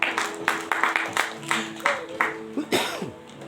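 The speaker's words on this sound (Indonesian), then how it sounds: "Berikan tepuk tangan untuk Pak Edo." A congregation at a church service claps briefly, a handful of sharp, uneven hand claps with some voices mixed in before it fades out.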